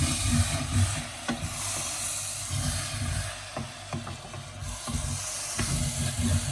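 A spoon scrapes and turns through a pot of Sri Lankan yellow rice mixture. The stirring is soft and irregular, with low scraping strokes over a quiet hiss and no talking.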